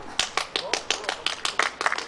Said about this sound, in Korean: 아 이제서야 박수 친다 그랬구나